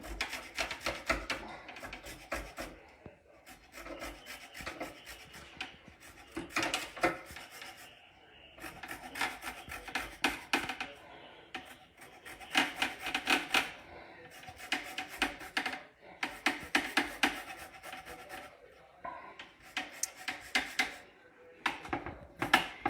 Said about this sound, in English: So I'm just going to take this with the zester. And we're going to zest the whole lime.